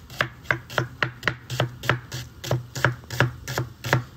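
Knife chopping onion into small pieces on a board, a steady run of about fourteen crisp, close taps at a brisk, even rhythm with no talk.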